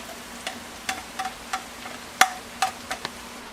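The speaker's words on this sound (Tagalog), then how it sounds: "hulog natin ang bawang sibuyas, sabay na" Garlic and onion sautéing in hot oil for Filipino pancit canton bihon, sparse sharp crackles and spatters popping at irregular intervals over a faint low hiss, close by with no talking.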